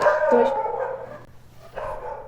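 A dog barking close by, a few sharp loud barks with a short yip, then a pause and another bark.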